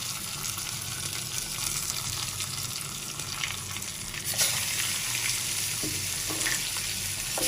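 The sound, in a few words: raw mango frying with spices in a pan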